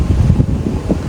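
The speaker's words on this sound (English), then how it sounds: "It's windy though. It is windy." Gusty wind buffets the microphone outdoors on a city street, a steady low rumble that rises and dips for about a second, loud and close with no voices.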